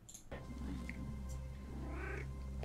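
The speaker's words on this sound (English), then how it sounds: "Silo has cats" A cat meows and caterwauls in a scene from the TV series Silo, its drawn-out cries sitting close over a steady low hum and background score.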